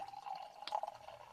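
Cider poured into a glass from a bottle, a soft steady trickle of liquid with a brief brighter splash partway through, close and quiet with no voices.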